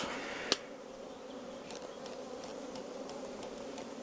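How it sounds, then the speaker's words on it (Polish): A steady insect buzz hums throughout, like a swarm of honeybees close by at a beehive, with a sharp click or tap near the start. "I te wszystkie pszczoły"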